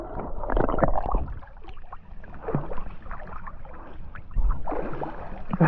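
Splashing and gurgling water as a person plunges into cold sea water off slippery rocks at a beach in mid October, close churning surges rising and falling with the body's movement.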